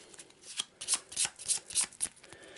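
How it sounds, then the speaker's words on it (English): A deck of Arkham Horror game cards is shuffled on a tabletop, producing a quick run of crisp, evenly spaced riffling bursts, close and fairly loud, with no talking. "Give it a quick shuffle."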